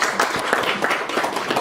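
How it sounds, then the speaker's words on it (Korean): Applause from a seated audience at a talk on startups in Seoul, a dense, even wash of clapping close by and fairly loud, lasting under two seconds. "뜨거운 박수로 환영해 주시기 바랍니다."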